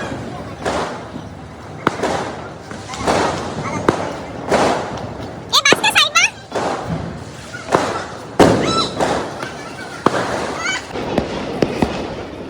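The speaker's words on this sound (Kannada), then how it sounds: "ನಮ್ಮಣ್ಣ ಈ ಸಲ ಹೊಸ ಪಟಾಕಿ ತಂದಿದ್ರು, ಹೆಲಿಕಾಪ್ಟರ್ದು." Diwali firecrackers, including a new helicopter-type one, going off in a series of loud pops and thumps, with a whirring crackling burst in the middle and people talking between blasts.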